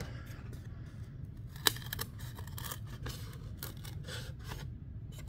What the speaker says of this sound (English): You can actually use scissors to cut it out.